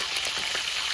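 Salted ribbonfish fries in a village kitchen, hot oil giving a steady close sizzle and crackle, with no talk.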